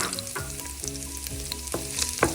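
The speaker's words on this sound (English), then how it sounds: "And get that nice little light sizzle" Garlic sizzling steadily in hot oil, a bright crackling hiss with occasional louder pops and stirring bursts, close up and no talking.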